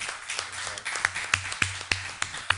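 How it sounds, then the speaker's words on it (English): A small audience at a town board meeting claps for a volunteer who cleans up local roads, a thin scatter of claps with a few sharp, close hand claps landing in a loose, uneven rhythm. "Rita Boulier needs a big round of applause"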